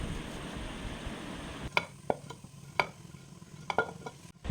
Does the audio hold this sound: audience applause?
no